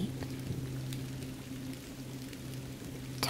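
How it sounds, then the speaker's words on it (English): Steady rain from a summer storm falls through the night in a calm sleep soundscape, a continuous even hiss with a low hum beneath, no thunder standing out and no voices. "The thunder and rain create the perfect soundtrack for sleep."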